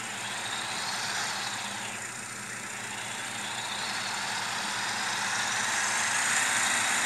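A motorcycle engine runs in the survival game Last Day Rules on a bike that is breaking down quickly, a steady droning hum that holds even and grows slightly louder toward the end, with no talk over it.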